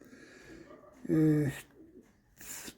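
A young pigeon gives one clear, close coo, a low tonal call lasting about half a second, set against quiet room noise and brief rustles.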